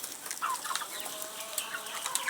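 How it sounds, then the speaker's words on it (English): Farm chickens cluck softly while they feed, giving scattered short calls over a quiet, hissy background. "So now you can see my birds feeding"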